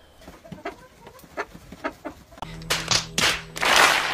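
A chicken clucking in repeated short, punchy calls, loud and close, building to a louder burst near the end.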